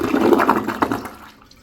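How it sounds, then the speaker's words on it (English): A Toto Drake II toilet flushes after a quick press and release of the handle, a loud close rush of water that swells and then tapers off within about a second and a half. "Let's do some flushes. Let's first do a press and release."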